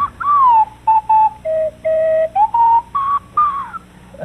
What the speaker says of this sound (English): Oh, my bad. The slide whistle.